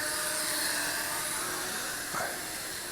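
A Holy Stone HS340 micro drone with prop guards flies indoors, a steady high-pitched whine from its small propellers that holds throughout and shifts briefly in pitch as it maneuvers, with no speech.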